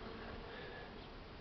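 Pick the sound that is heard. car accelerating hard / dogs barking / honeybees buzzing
honeybees buzzing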